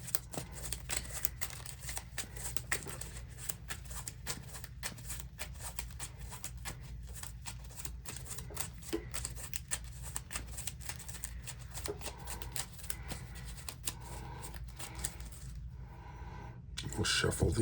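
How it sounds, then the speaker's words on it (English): A Marvel Champions card deck is shuffled by hand in a long, continuous run of soft riffling and flicking close by, ending in a louder flurry. "We'll shuffle the main deck."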